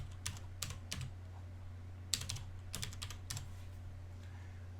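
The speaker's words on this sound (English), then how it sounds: "I'm going to type in that IP address you see over there on the left" Keys tapped on a computer keyboard while entering an IP address, soft quick clusters of clicks in short bursts and pauses, faint against a steady low electrical hum.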